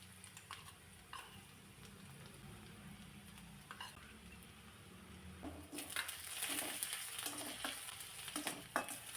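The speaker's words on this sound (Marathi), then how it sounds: "कांदा थोडासा लालसर कलर येईपर्यंत मी परतून घेतला आहे" Onion sizzles and fries in a pan while being stirred, a steady close crackle that grows louder and busier partway through, with scraping stirs and no talking.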